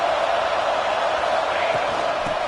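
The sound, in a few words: stadium crowd cheering at college football game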